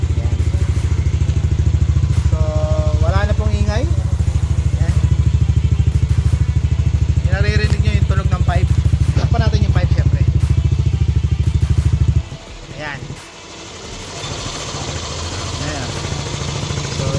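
A Yamaha Aerox V1 scooter with a loud aftermarket muffler idles close by, a heavy, even thrumming that cuts off abruptly near the end. People talk over the engine throughout.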